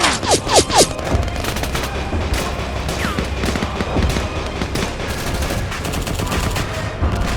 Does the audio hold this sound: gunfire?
yes